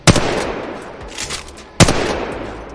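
Two sharp gunshots about 1.8 seconds apart from a weapon in Apex Legends Mobile, each a loud crack with a short decaying tail, close and alone.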